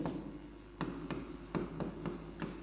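A pen scratches notes on paper during a geography lecture, soft close-up strokes with several sharper taps and scrapes in an uneven rhythm, faint and without speech.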